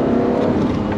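A V12 engine car accelerates, a loud, steady, full-bodied engine roar holding throughout a short one-second burst with no talk over it.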